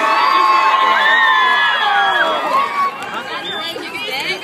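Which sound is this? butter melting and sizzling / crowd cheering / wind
crowd cheering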